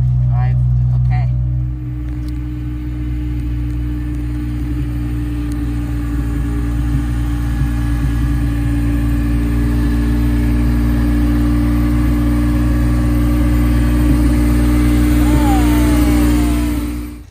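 A DeLorean time machine replica car runs under a steady, droning engine hum while driving, with a mid-pitched rev that slowly rises over the whole stretch, and a person speaking over it.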